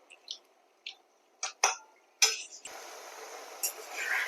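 A spoon stirs water lily stems with red lentils in an uncovered cooking pot. Several sharp, separate clinks against the pot give way to a steady scraping, sizzling stir, close and fairly quiet, with no voices.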